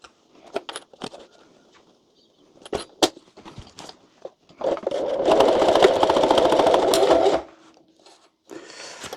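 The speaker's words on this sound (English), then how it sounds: "we can just run a stitch around that bottom hem" A home sewing machine runs a steady, close stitching burst around the bottom hem of a DIY bikepacking bottle cover, preceded by scattered handling clicks and taps.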